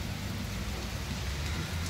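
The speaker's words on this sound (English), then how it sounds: "now it's freaking raining, it's thundering, and it's windy" Steady heavy rain with low rumbling thunder underneath and wind in Fresno, a constant dense wash of sound with no voices.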